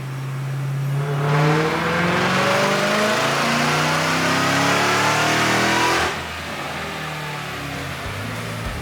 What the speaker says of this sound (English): let's start with some baseline dyno pulls